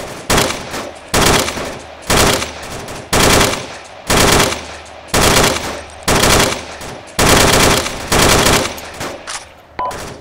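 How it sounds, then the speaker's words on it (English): Heavy automatic gunfire rattles in a military video game, coming in about nine loud, sustained bursts separated by short pauses, with no talking heard. "we're taking fire from this construction complex"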